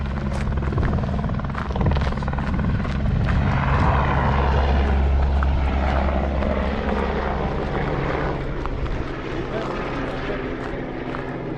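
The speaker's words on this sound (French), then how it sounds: "je pense que c'est l'hélico qui vient ravitailler le refuge" Helicopter arriving to resupply a mountain refuge in the Beaufortain Alps, a loud steady rotor and engine drone that swells and fades slightly across the whole stretch, heard close under outdoor air.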